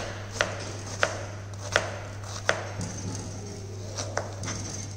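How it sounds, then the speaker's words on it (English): Sharp knife strikes on a cutting board chopping an onion, about eight distinct chops at an uneven pace, with a steady low hum underneath. "this is what chopping is."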